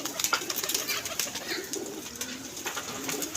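Club pigeons coo and rustle close by as they are brought down to land in the evening, with soft wing movement amid faint background noise.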